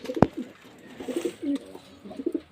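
A pigeon being hand-fed gives several soft, low coos in close succession, close by and fairly clear, with a sharp tap or flutter near the start.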